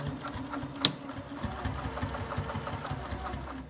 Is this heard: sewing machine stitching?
yes